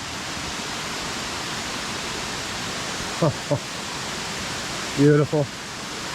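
A waterfall at DeSoto State Park roars as a constant broadband rush, while a person speaks briefly twice over it.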